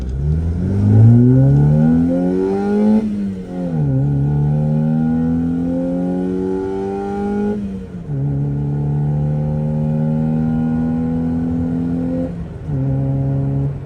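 A Honda Civic engine revs up through several gears, its pitch climbing and dropping at each shift, with sucky intake noise over a loud, steady drone and no talking.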